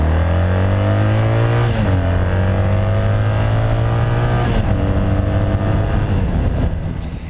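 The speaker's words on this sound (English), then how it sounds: "the engine pulls strongly right through the rev range" A Triumph Bonneville motorcycle engine runs loud and close in a steady, throaty drone, with its pitch shifting a couple of times as the revs change before easing off at the end.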